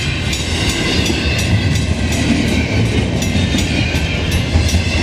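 A CP freight train rolls past in the snow at Beauregard, Quebec: a loud, close, continuous rumble with repeated rhythmic clickety-clack of wheels over rail joints, no voices.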